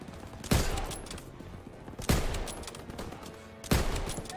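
Gunfire in the World War II shooter Call of Duty: WWII, three loud sharp bursts spaced about a second and a half apart, each trailing into a rumbling decay over a constant background of distant battle noise.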